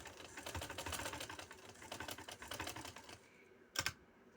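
A home sewing machine stitches the corner of a dupatta trim, running in a fast, steady mechanical patter for about three seconds before stopping, with one short clack just after.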